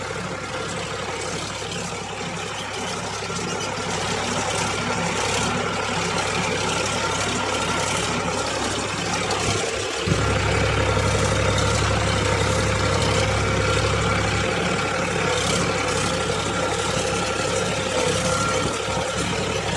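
An Eicher 551 tractor pulls a cultivator through a potato field, its diesel engine a steady, loud, low rumble that holds for the whole stretch and briefly rises in load partway through.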